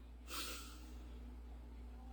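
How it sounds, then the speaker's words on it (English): A single deep breath during a mindful stretching class: one soft, airy inhale-like rush near the start, fading quickly into a quiet steady hum. "Let's just take a deep breath together."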